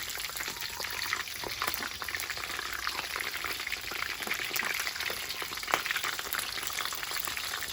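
Food fries in hot oil at a Thai roadside food stall, a continuous, fairly faint crackling sizzle with occasional sharper pops and no speech over it.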